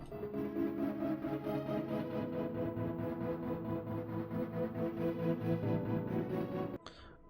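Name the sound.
synthesizer arpeggio preset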